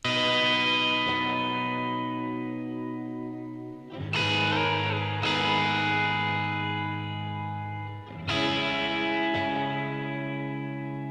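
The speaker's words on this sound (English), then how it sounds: "What gives it this sort of springy sound is the spring reverb from Ableton" Sustained electric guitar chords ring out and decay with a metallic, springy tail from an Ableton spring reverb effect, struck again every few seconds.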